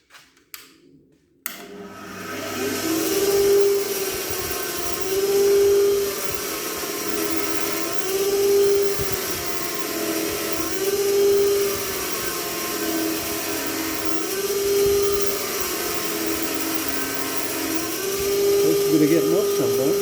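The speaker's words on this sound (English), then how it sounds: "So we're going to clean it up on the wire wheel." A bench wire wheel grinding carbon deposits off VW Beetle engine valves, a steady loud motor whine with rising and falling scraping as each valve is pressed against the wheel, running continuously after a brief start.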